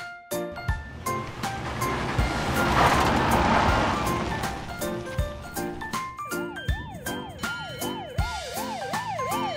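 Toy ambulance with a wailing siren that rises and falls in regular swoops over busy electronic toy noise and tinkling tones, loud and close.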